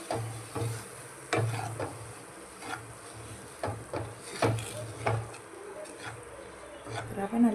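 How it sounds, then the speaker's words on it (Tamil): Semolina (rava) roasting in a pan after cashews, stirred with repeated soft scraping and tapping strokes at an uneven rhythm, faint and close, with a low background hum. "அதில் இந்த ரவையை போட்டு நல்லா வறுத்து"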